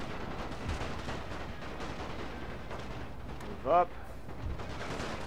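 Battle gunfire in the video game Napoleon Total War, using a German Empire Great War mod, rumbles in a constant stream of distant rifle and artillery shots, while a voice speaks over the din.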